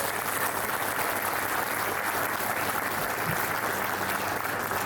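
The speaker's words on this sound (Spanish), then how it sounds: "Un aplauso para la familia." Continuous applause from the audience at a book presentation during an international book fair, a dense, even wash of clapping filling the room from start to finish.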